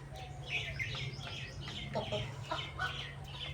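Chickens being fed in the evening cluck and chirp in short, scattered calls close by, over a steady low background hum.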